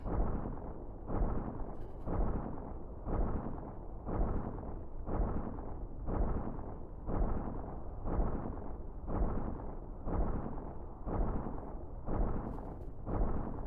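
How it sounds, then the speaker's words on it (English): In Dyson Sphere Program, a mecha mining iron makes a steady, rhythmic banging, about one muffled thud per second, repeating evenly and fairly quiet with no voices over it. "That banging noise in the background, my mecha's just still collecting iron."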